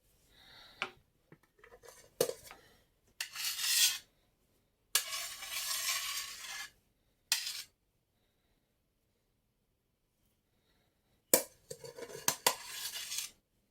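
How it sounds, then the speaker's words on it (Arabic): A kitchen knife is washed after cake-making: short, separate bursts of rinsing water and metallic clinks against dishes, broken by stretches of near silence, close and fairly quiet. "اغسل بقى السكينه بالمنظر ده كده"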